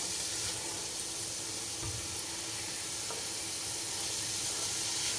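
Onions soften in a pan for an Egyptian spinach dish, sizzling steadily and evenly throughout without pause, close by and fairly loud.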